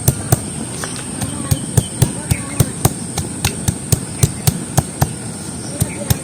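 Ginger and spices being pounded on a traditional grinding stone, a steady series of sharp, evenly spaced knocks close by, about two or three per second, over a quiet kitchen background.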